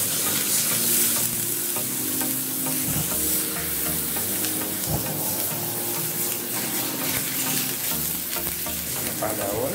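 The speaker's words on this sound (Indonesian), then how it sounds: "Setelah minyak panas, kita masukkan bumbu halusnya." Ground spice paste hits hot cooking oil and fries with a loud, steady close sizzle and crackle, with stirring scrapes throughout, for fried spiced chicken.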